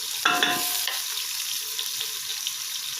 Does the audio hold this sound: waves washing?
no